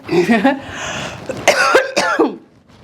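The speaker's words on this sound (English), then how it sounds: "Oh my gosh, why am I coughing?" A short burst of harsh coughing, close and loud, a few hacks with a throat-clearing rasp, then quiet.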